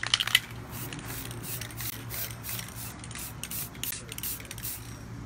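Mirror effect spray hisses onto glass in a series of short, close bursts with brief pauses between them, steady and fairly quiet against a low background hum.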